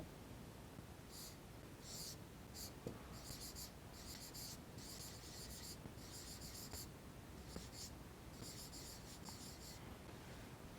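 Someone writes on a board in a maths geometry lesson, labelling diagonals: rapid scratchy strokes in uneven bursts over a steady, soft hiss.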